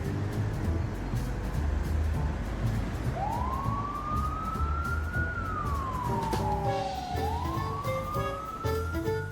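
An ambulance siren wails, rising and falling slowly over heavy traffic rumble, as it passes nearby on a busy road.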